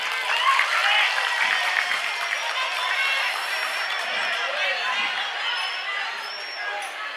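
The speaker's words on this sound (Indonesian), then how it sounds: "Tepuk tangan kakak." Audience applause fills a religious lecture hall, steady broadband clapping sustained throughout with a lively crowd texture, loud and continuous from start to end.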